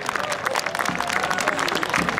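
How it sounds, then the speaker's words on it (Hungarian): Outdoor crowd applause at a fortress festival horse show after a horse lies down on cue, brisk rhythmic clapping from many hands, close and loud, lasting the whole moment. "Nagy tapsot kérnék szépen!"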